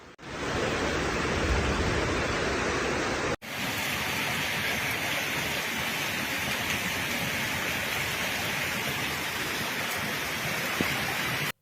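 Heavy torrential downpour on the Costa Dorada coast near Tarragona, Spain, a dense, steady roar of rain with a brief break partway through, loud and continuous with no voices.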